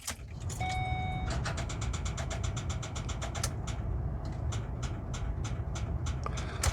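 An RV starter clicks in a rapid, steady run of loud ticks as the key is turned on a weak battery, the ticking continuing over a constant low rumble for several seconds.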